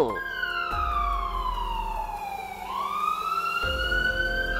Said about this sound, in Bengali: সর্বনাশ, পুলিশের গাড়ি!